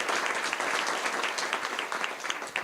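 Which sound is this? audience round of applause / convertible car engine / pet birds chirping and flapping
audience round of applause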